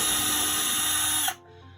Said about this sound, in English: make sure that that drill bit is sitting right in that nail hole